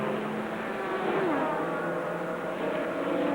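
A GT race car from the 2000 FIA GT season accelerates flat out along Monza's front straight out of Parabolica, its engine note climbing and dropping as it shifts up through the gears, loud and close with other engines droning behind.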